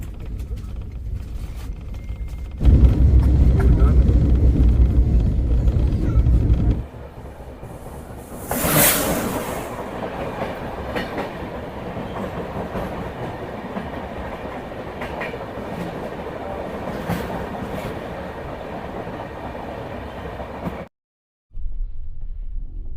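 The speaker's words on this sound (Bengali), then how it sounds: "ঘুষখাড়া স্টেশন থেকে ট্রেন ছেড়ে এখন রওনা দিয়েছে বর্ধমান জাংশনের দিকে" The Howrah–Bolpur Express departs Guskara station, rolling along with a steady rumble and clickety-clack, a louder burst near the start and a passing hiss, continuing until a brief cut near the end.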